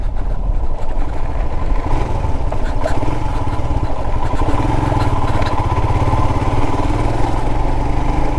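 Royal Enfield Himalayan motorcycle ridden off-road over rough ground, a loud continuous engine drone with steady low thumping and wind noise close to the rider.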